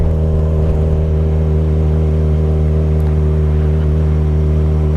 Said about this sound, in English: Our exhaust note is less gargly sounding, if that's a thing, which indicates that there's probably a better air fuel burn